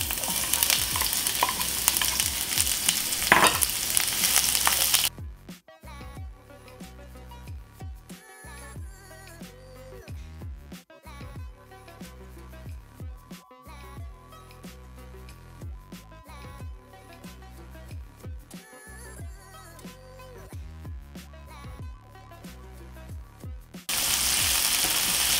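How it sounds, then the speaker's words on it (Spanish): Chopped onion sautés in oil in a hot clay cazuela, giving a loud, close sizzle at the start. Music then plays over a long middle stretch before the crackle returns at the end. "Ahora voy a empezar a guisar cebolla. Voy a agregar aceite."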